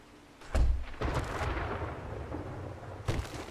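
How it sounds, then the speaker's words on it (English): Thunderstorm ambience in the video game 7 Days to Die: heavy thunder cracks and deep rolling rumbles, several booming strikes close by, with no talk. "the storm makes for some kind of scary ambiance"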